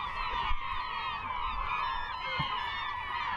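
Gulls call repeatedly at a muddy Alaska fishing spot, with a steady chorus of harsh, honking cries close by and no talk over them.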